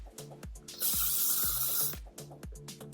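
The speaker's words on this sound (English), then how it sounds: "spraying with a little bit of hairspray to keep the style in" L'Oreal Elnett Satin hairspray hisses in one loud, close, continuous burst of about a second, set between rhythmic music beats.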